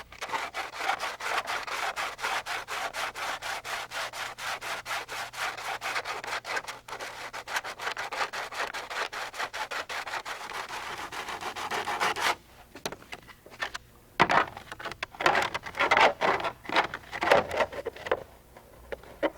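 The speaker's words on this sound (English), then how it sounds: "Sand and trim as necessary." Sanding and trimming on the rear skid pants of a Rotorway Exec 162F helicopter makes rapid, rhythmic rasping strokes close by, then shifts to slower, irregular scraping passes.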